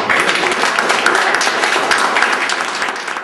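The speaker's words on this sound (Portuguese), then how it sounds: "Dá uma salva de palmas." An audience at a São Paulo film club screening bursts into dense, sustained applause, loud and even throughout with no pause.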